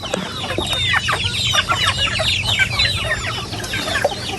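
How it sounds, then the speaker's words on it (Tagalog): Hungry chickens at feeding time cluck and squawk constantly in a busy, close flock, the overlapping calls layered over a low steady background rumble with no talking. "Magpapakain muna po si Bossing ng mga alaga po niyang manok."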